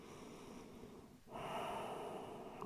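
Someone resting in child's pose during a yoga session, taking a slow, soft breath in, then a quiet, airy exhale, close and faint with no talking.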